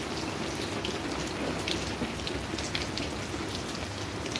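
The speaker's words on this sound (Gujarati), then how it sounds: "વરસાદ આવી ગયો" Steady, dense rain pours down in a heavy downpour, a continuous close hiss of drops on the ground and surfaces with no break, no voices over it.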